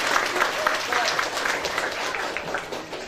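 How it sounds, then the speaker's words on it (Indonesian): Audience applause in an Indonesian talk-show hall honouring an actor's five trophy wins, a dense steady clapping roar lasting the full stretch, close and loud, with no voice over it. "5 kali boleh tepuk tangan."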